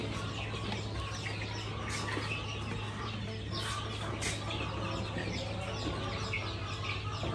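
Newly hatched chicks peep and cheep continuously in a brooder, a faint, busy chorus of high chirps over a low steady hum.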